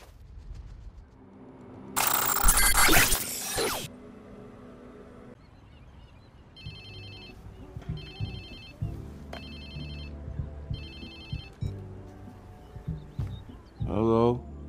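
A mobile phone in the Watch Dogs 2 video game ringing in several short, evenly spaced electronic bursts, following a loud rushing noise, with game sounds and a voice in the background.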